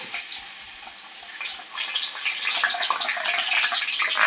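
Boondi batter hits hot oil in a deep pan, setting off a steady, close sizzle that swells and grows denser as more drops fall in, with no talking.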